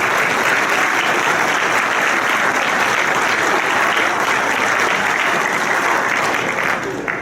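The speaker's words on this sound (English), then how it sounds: "let's welcome them with a nice round of applause for what they do for us each and every day" Loud, sustained applause from an awards-ceremony audience welcoming firefighters at the St. Barnabas Valor Awards, dense continuous clapping close by that holds steady before tapering off at the very end.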